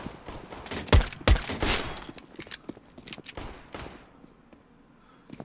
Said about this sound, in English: He's managing to dodge some bullets there.